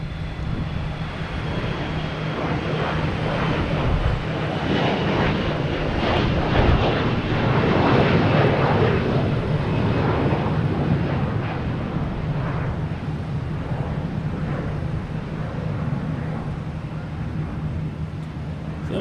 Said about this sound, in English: Let me just check to make sure I'm not missing anything crazy taking off, like this Delta